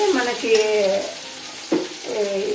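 Ground onion, coriander and cumin gravy fries in a pan for a fish fry, giving a steady sizzle throughout with some tonal clinks or hums over it.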